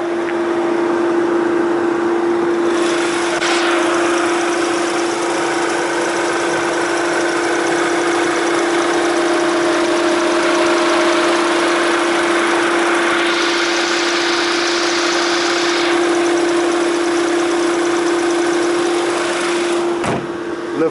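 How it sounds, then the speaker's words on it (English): A 2.0 TFSI petrol engine in an Audi TT Sport with 211 bhp idles steadily close by. It makes a smooth, continuous hum for the whole stretch with no talking, broken only by a brief click near the end. "Lovely sounding petrol engine there."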